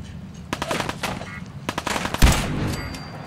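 Rapid bursts of automatic gunfire in Fallout 4 strike the player, sharp cracks crowding together over about three seconds with a heavier impact near the end.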